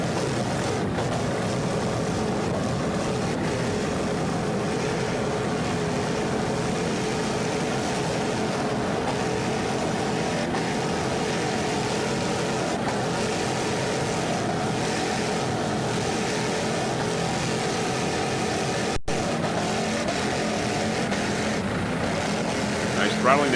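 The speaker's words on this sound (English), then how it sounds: "This Pier 57 is a 38-foot fountain powered by two 500 horsepower Vortec inboards" A 38-foot Fountain powerboat with twin 500 hp Vortec inboards roars steadily at a distance through a race, a sustained droning engine note under an announcer's commentary.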